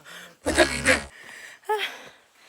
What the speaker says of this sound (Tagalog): Ito na yung hingal ko.